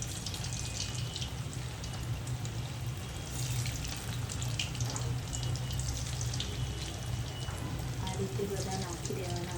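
Busy sizzling and bubbling of veg Manchurian balls frying in hot oil, steady and close, with faint clinks underneath.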